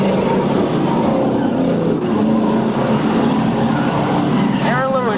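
Sportsman stock cars race down the backstretch at Riverglade, a steady, loud, dense roar of several engines that holds throughout, with a rising, sweeping whine from a car passing close near the end.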